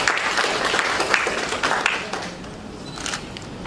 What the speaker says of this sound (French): je vous demande de vous applaudir autant que vous êtes ici